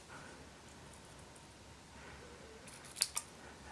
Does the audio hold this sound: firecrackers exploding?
no